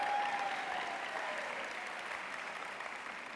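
A crowd claps in a steady burst of applause that gradually fades, with no voices over it, at a university commencement ceremony.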